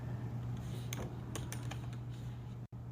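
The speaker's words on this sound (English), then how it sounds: "You can hear me typing." Keys clatter in quick irregular bursts on a computer keyboard, close and fairly quiet over a steady low hum, with a brief dropout near the end; no talking.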